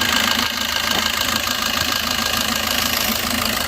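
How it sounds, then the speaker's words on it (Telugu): A 2012 Maruti Suzuki Ertiga ZDI diesel engine idles steadily up close, a smooth continuous rumble with a faint rhythmic beat and no voices. "ఇంజన్ యొక్క బీటింగ్ కూడా చాలా అంటే చాలా మెత్తగా ఉందండి"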